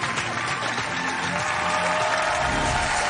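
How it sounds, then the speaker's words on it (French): Studio audience applause for comedian Waly Dia on a French hypnosis TV show, a dense steady wash of many hands clapping throughout, loud and continuous with no speech over it. "Donc, on peut l'applaudir encore une fois, Wally."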